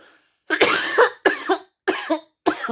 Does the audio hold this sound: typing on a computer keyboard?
no